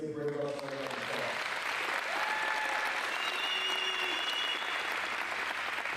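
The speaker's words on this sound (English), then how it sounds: "Let's give Brady Belts a round of applause." Applause at a high school NCAA signing day ceremony honoring a varsity football player, a sustained crowd clapping that fills the room after a voice finishes speaking.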